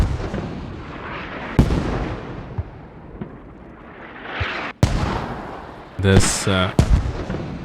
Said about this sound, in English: marketplace have just been hammered by mortars